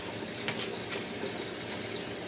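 Water pours steadily into a 75-gallon home aquarium during tank cleaning, a constant rushing, gushing flow heard close and fairly quiet with no pauses.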